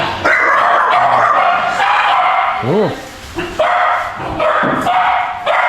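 Dogs at a home in Minalabac, Camarines Sur, Philippines bark and yip loudly and almost without pause, with a brief high whimper in the middle and a person's short exclamation.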